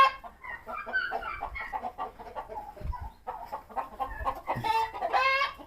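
Black hens cluck and chatter steadily at close range on a farm, a busy flock with overlapping calls and a louder burst near the end.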